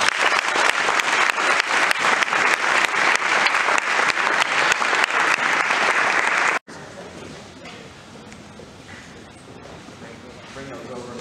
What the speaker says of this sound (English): Give these seniors one last round of applause.